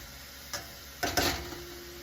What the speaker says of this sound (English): And some sweet onion. Those are going in. Stir them around.